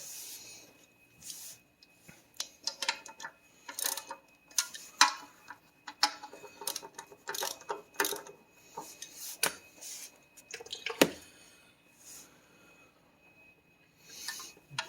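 Automatic transmission fluid drips from a 2002 VW Beetle with an 01M gearbox into a pan, an irregular run of small ticking drops and splats, close and fairly quiet.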